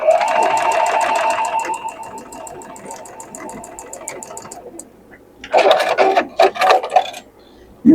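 A sewing machine stitches quilt block pieces for a Tula Pink modern quilt in a rapid, even run that slows and stops, followed by clicks and handling noises.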